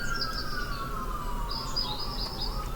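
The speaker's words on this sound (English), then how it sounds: "More sirens in the background." Sirens wail in the background, a steady, slowly falling tone with rising and falling chirpy warbles over a constant hum, fairly loud and with no talk.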